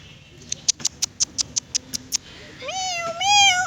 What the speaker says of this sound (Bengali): কি সুন্দর বিড়াল দেখো না